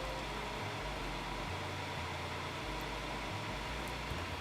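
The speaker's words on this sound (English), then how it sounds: "The fan is the white noise." A fan runs with a steady, even broadband whoosh like white noise, close and constant throughout with a low hum underneath, and no one speaking.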